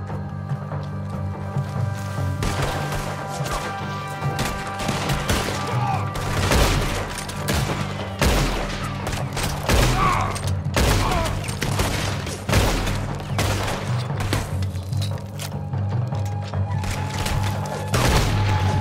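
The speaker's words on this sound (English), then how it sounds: "There's another set of cannons up ahead!" Heavy cannon fire and battle booms in Red Dead Redemption 2, repeated loud blasts and gunfire over a constant low rumble, with shouting voices amid the combat.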